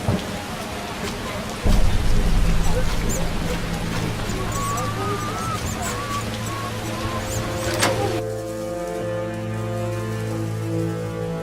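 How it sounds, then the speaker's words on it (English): Rain and thunder in The Witcher video game: steady rain hiss with a loud thunder rumble arriving early and rolling on, while game music plays underneath throughout. "It rains and it pours."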